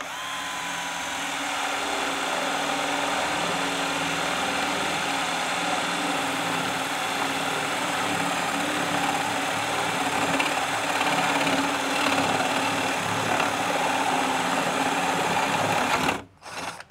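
A JLD J12S 12-volt cordless drill runs steadily under test, its motor whine holding continuous and fairly loud for about sixteen seconds before cutting off abruptly near the end.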